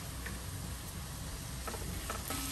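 Onions sauté in a pan with a pinch of salt, giving a steady, quiet, fairly faint sizzle with a few soft stirring clicks near the end.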